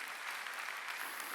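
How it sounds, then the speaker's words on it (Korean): A brief, quiet burst of congregation hand clapping during a Korean Sunday church service, a steady spatter of many hands heard at a distance. "박수치라"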